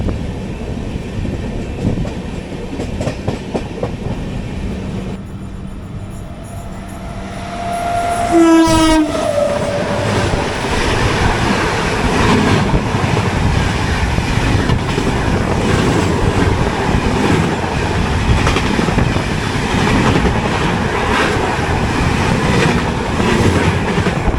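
The Patna-Ernakulam Express passes close by, its horn blaring briefly before a loud, sustained rumble and rhythmic wheel clatter on the rails that continues to the end, with no talking.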